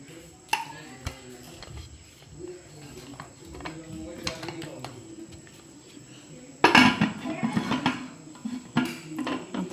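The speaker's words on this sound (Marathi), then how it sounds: "आता लावून घेते हा कुकर" A pressure cooker lid is clattered into place on a pot of kadhi-khichdi over a wood-fired village stove, with scattered metallic knocks and a louder burst of rattling clanks near the end, under occasional talk.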